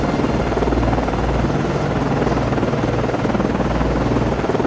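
Steady, loud helicopter rotor drone with a low throbbing pulse, continuous and close, as an aircraft launches from a frigate's flight deck in the naval video game Cold Waters.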